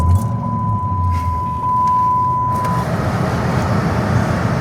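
A Dodge Charger fitted with a Demon hood pulls away, its engine a steady low rumble that stays close and fairly loud, with a thin steady tone over the first half.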